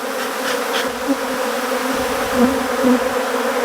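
An Africanized honey bee colony gives a steady, dense buzz that fills the whole stretch, close and loud, with a few individual bees droning nearer, and no voices.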